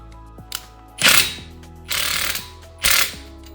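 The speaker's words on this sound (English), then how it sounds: "let's do 1 so you can see how powerful this impact wrench is from RIDGID whenever I do my tire change" A RIDGID R872081B 18V sub-compact 1/2-inch impact wrench loosens a tire lug nut during a wheel change, firing three loud, short rattling bursts close by with brief pauses between them.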